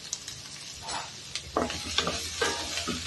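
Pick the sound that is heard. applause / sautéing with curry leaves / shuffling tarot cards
sautéing with curry leaves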